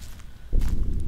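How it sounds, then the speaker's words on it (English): Heavy, thudding footsteps in the video game Slender land close by, a dull booming step followed by a few more muffled impacts. "He's got very loud footsteps, like drums, isn't he?"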